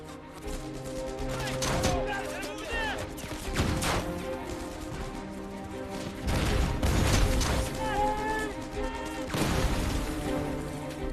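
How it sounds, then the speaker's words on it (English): Grenade blasts and bursts of gunfire ring out during a WWII assault on a German hilltop bunker, with irregular heavy booms and sharp cracks spread across the stretch, voices shouting in between. "Members of Fox Company use grenades and gunfire to force the surrender of the German hilltop bunker."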